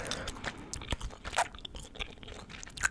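Close, wet chewing of strawberry bubblegum during a Call of Duty Mobile session on an iPhone 11 Pro: irregular crisp smacks and crunchy bites, with no voices.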